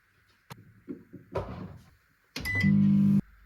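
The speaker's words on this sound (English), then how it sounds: "I think just whack it in the microwave" A microwave oven heats a gingerbread butterscotch pudding. Its door thumps shut and a few button beeps and clicks follow, then the steady hum starts with a clear tone on top before cutting off. The sounds are close and fairly quiet.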